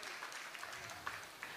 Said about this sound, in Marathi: आपण स्वतःसाठी एकदा कौतुकाची थाप म्हणून टाळ्या.